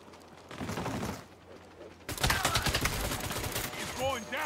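Gunfire in the video game Saints Row crackles in rapid bursts, quieter at first and then louder and denser, with a player talking excitedly over it.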